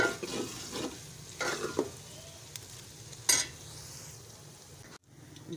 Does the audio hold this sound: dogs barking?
no